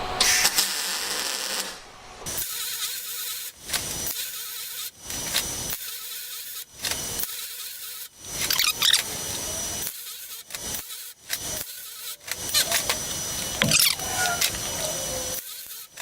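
Tack welding end caps onto a large metal plant stand produces a series of short crackling, buzzing bursts, each a second or so long, separated by quiet gaps.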